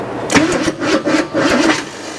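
A scrapped 350 V8 in a 1979 GMC Heavy-Half cranking over, loud and close, with a rhythmic starter chug repeating in uneven pulses.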